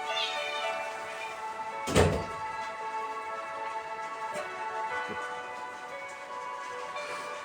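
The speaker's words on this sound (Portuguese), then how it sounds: "Tem uma gata aqui em casa. E ela inventou de sair para fora, e está chovendo, então ela anda buscando por onde entrar." A house cat meows outside in the rain, trying to find a way indoors. The plaintive calls are faint and sit under steady rain hiss, with one brief thump partway through.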